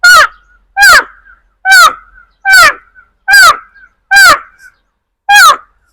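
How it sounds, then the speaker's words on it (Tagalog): Loud, harsh crow caws repeated seven times at a steady pace, each call short and raspy with brief silences between. "May uwak pa doon."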